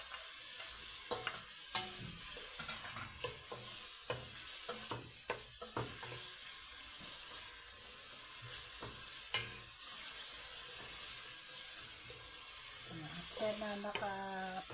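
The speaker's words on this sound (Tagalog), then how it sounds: "Gisa-gisa lang muna ng konti ang sibuyas." Onion and garlic sautéing in a pan, a soft, steady sizzle broken by scattered stirring clinks and scrapes, with a brief voice near the end.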